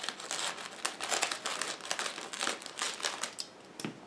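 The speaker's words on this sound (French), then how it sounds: "Donc ce que je vous propose, c'est de le déballer. Le ciseau, pour faire ça proprement." Lego Star Wars nano Podracer set packaging being opened and unwrapped, with dense, continuous crinkling and crumpling of plastic wrap close up, marked by short sharp rustles and tearing bursts throughout.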